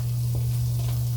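About a tablespoon of minced garlic sizzles in a hot pan for coconut curry chicken, a close, steady frying hiss over a low constant hum.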